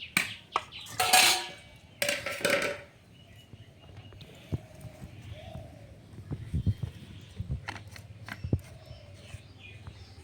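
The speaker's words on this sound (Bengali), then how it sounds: "এখন সর্ষে আর পোস্ত বেটে নেব" Mustard seeds and poppy seeds being ground into a paste, with a couple of loud scraping grinding strokes early on, then quieter scattered clicks and knocks.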